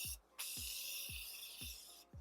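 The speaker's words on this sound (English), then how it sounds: "I'm gonna go ahead and spray some of this Fix Spray" A soft, close aerosol spray of makeup setting spray hisses in a short burst, pauses, then sprays steadily for nearly two seconds, with faint low taps underneath.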